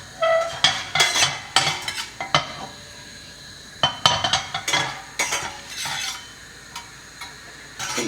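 Cumin seeds and cashews frying in a pan while poha upma is cooked, with repeated sharp clinks and scrapes of a spoon stirring against the pan over a soft sizzle, close and moderately loud.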